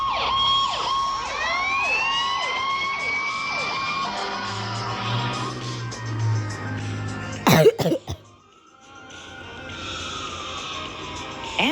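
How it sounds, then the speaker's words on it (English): Fire engine sirens wail in repeated rising and falling sweeps, joined by a low blaring horn midway and a sharp loud burst near the end before the siren fades and resumes faintly. "Fire engine"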